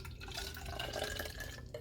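Water pours steadily into a spray bottle while a homemade moisturizing loc refresher spray is mixed, a close, continuous splashing stream lasting under two seconds.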